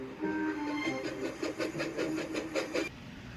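Thomas the Tank Engine, a steam locomotive, puffs along in a quick, even run of soft chuffs with a light hiss. The sound is fairly faint and stops abruptly after about three seconds.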